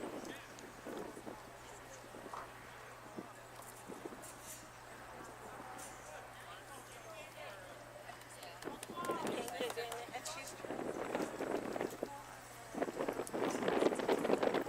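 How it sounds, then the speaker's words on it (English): Wind buffets the microphones at an outdoor high school soccer game as a steady rumbling roar that grows stronger and gustier toward the end, with faint field sounds beneath. "Wind is picking up now."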